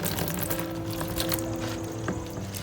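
Water poured steadily over a Syngonium batik growing in LECA while its roots are washed, a continuous close splashing and trickling flow.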